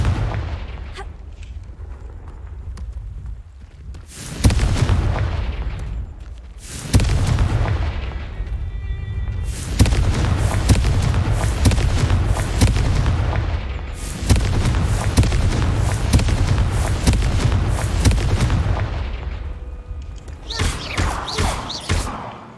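Repeated fiery blasts from the Confringo fire spell in Hogwarts Legacy, four or five loud booming bursts in quick sequence, each with a rumbling tail, plus a sharper crackle near the end.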